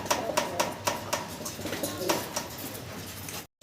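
Pigeons coo near and clear, with a string of soft repeated calls in a loose rhythm, then a brief gap of silence at the end.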